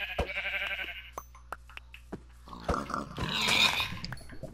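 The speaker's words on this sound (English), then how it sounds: "Look at all this sheep." Sheep in the Minecraft video game bleat in short, nasal calls, several of them near and distinct, the first ones clearer and later ones blending into a busier stretch of gameplay noise with sharp clicks.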